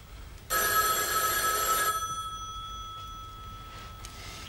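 A telephone bell rings loudly in one sustained burst of about a second and a half, then fades with a lingering metallic ring, in a quiet indoor scene with no talk.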